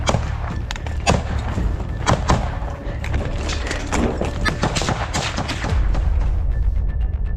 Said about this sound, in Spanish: El sonido de los disparos se volvió incesante.